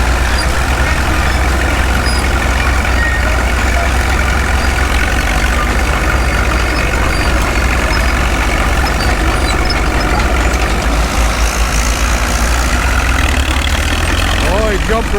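An IH tractor engine labours steadily while pulling a subsoiler through the ground, a loud, continuous low drone that holds even throughout with a slight rise in pitch near the end.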